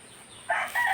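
A Rhode Island hen gives a short, sudden squawking call close by, breaking in after a moment of quiet.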